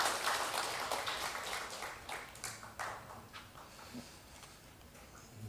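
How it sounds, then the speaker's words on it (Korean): A Korean church congregation at a Sunday worship service claps briefly, a burst of scattered hand claps that starts fairly full and thins, fading quickly to a few soft, distant pats. "박수하시겠습니다."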